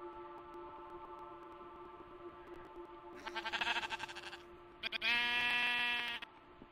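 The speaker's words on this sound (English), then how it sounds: "You be quiet, sheep." Sheep in Minecraft bleat in two clear bursts, a wavering baa and then a longer, louder one, over a faint steady background hum.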